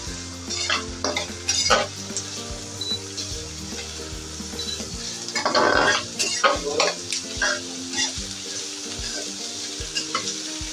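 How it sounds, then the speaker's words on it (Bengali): Onions for a quick tomato chutney fry lightly in oil, a continuous sizzle broken by repeated scraping stirs of a utensil against the pan, with a louder burst of crackling midway. "পেঁয়াজটা হালকা করে ভাজবো।"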